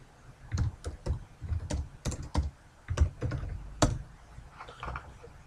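Soft keyboard typing while text is edited in CAD drawing software, a quick run of light irregular key clicks that tails off toward the end, close but quiet, with no speech.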